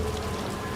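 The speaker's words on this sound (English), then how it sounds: "Can't get up the hill when it's raining." Steady rain falls in the video game Death Stranding 2, a dense, even hiss of drops on surfaces filling the whole short moment with no voices.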